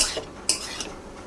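Spoon scraping through semolina with split green chillies in a pan for spicy suji, a few short close stirring strokes over a soft background hiss, no voices.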